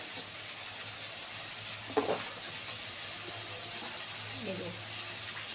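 Fried potatoes and tomato in a hot pan, a faint, steady sizzling hiss with a brief clatter of a utensil and a soft stir later on.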